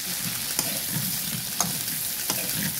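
Shrimp fry in a pan for a sweet and spicy dish, a steady bright sizzle heard up close, broken by a few sharp spoon clinks against the pan.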